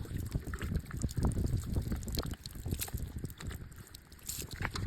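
Cool well water is poured out on a farm in Haryana, a loud, close splashing gush with uneven bursts and gurgles that runs continuously, with a voice briefly audible.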